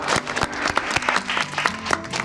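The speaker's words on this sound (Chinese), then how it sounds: "来，鼓掌欢迎。" A small group of colleagues in an office breaks into applause to welcome a new coworker, crisp individual claps close by in an uneven, lively rhythm with no talking over them.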